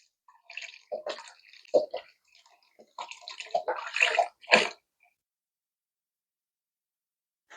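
Beef broth poured from a 32-ounce carton into a soup pot for lasagna soup: a few seconds of uneven splashing and glugging, close and alone, followed by silence.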